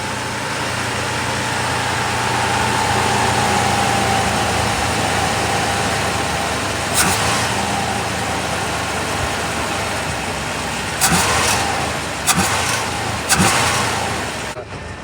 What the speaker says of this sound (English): That's a good idle when it's in gear, but out of gear it cranks up a lot